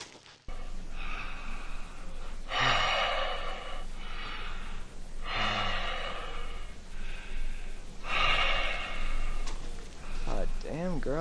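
A female character in the Roblox horror game The Mimic breathes heavily in loud, ragged gasps, roughly every few seconds, close and rhythmic, with a player's voice briefly heard over it.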